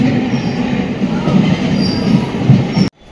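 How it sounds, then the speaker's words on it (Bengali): A Budge Budge–Sealdah suburban train pulls into the station with loud, close wheel squeal and rumbling rail noise that runs continuously before cutting off abruptly at the end. "5টার ট্রেন 5টা 8-এ ঢুকছে বজবজ শিয়ালদা"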